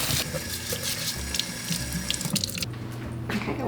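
Tap water runs steadily into a kitchen sink as potatoes are washed under it, a continuous close splashing stream with small fluctuations from the potatoes being handled and no talking.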